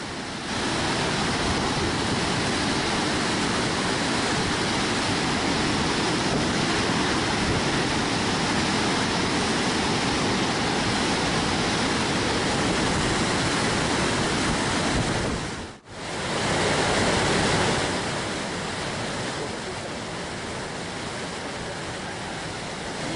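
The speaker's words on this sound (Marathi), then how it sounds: "या पाण्यामुळे तापी नदी ओसंडून वाहते" The Tapi river, swollen by water from the Hatnur dam near Jalgaon, overflows in flood. A loud, unbroken rushing roar cuts out for a moment near the end, then resumes slightly softer.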